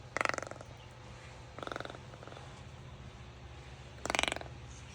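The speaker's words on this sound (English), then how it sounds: "Yeah, you purring." At a reptile sanctuary, a small animal purrs softly and steadily up close, with a low continuous rumble throughout and a few brief louder bursts.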